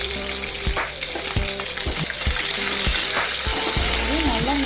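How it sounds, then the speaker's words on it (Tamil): Dried red and green chillies frying in oil for lemon rice, a loud close crackle and spatter with a spoon repeatedly tapping and scraping the pan, plus a faint whistling tone near the end. "இப்போ நம்ம கட் பண்ணி வச்ச பச்சை மிளகாய் கூட சேர்த்துக்கலாம்."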